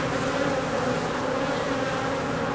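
Honey bees buzzing inside an indoor 12-foot beehive, a dense, steady close-up drone of many insects throughout, with no talking.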